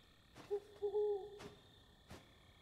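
An owl hooting in the video game Death's Door, a soft, low hoot held for about a second against a quiet ambient hum, punctuated by a few faint clicks.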